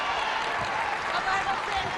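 Crowd applause and cheering at a Barbados v Scotland netball match, a steady broad wash of clapping and voices over two seconds, with commentary voices over it.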